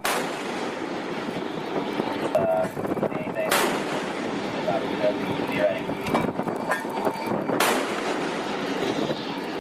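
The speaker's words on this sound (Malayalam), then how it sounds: "എഞ്ചിൻ റൂമിന് വെടിവെച്ച് കപ്പൽ പിടിച്ചെടുത്തു" Disabling gunfire aimed at the engine room of the motor vessel Tosca, two sharp blasts cutting through a dense, rumbling broadcast bed with loud background noise throughout.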